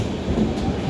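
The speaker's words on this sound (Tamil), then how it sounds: "கடைசியாக ட்ரெயின் இப்போ தான் வந்துருக்கு." A train pulling into a station, a steady low rumble of railcars rolling in with faint clickety-clack, loud and continuous for the whole moment.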